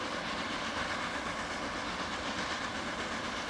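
An Austrian train running in the Transport Fever video game, a steady rolling rumble with faint rail clatter, constant and fairly loud, with no talk.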